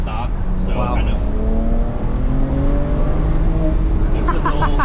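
A turbocharged manual 2008 BMW 335i with stock turbos, bolt-ons and stock exhaust accelerating on a mountain road, engine pitch rising steadily through gears, heard loudly from inside the cabin while people talk.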